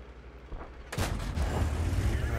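A tank cannon in World of Tanks fires one sharp, loud blast about a second in, and its booming rumble carries on after it over low battle noise.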